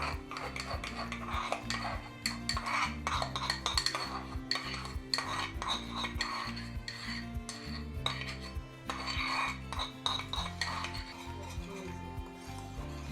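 Fresh ripe Alphonso mango puree stirred into cooled vegan phirni, with a spoon scraping and clinking against the bowl in quick, continuous rhythmic strokes, close and fairly loud.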